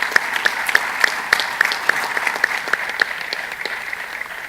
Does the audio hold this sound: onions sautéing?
no